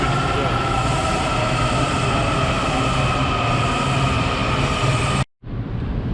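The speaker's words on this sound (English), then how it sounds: "train's coming." A Washington DC Metro subway train arrives at a station with a loud, sustained rumble and grinding roar of wheels on rails, cutting off abruptly near the end.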